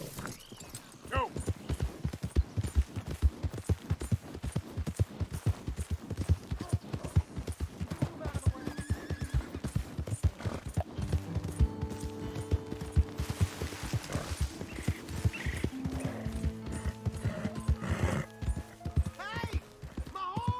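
Rhythmic hoofbeats of a galloping horse in Red Dead Redemption 2, steady clip-clop throughout with a whinny partway through and music swelling underneath toward the end.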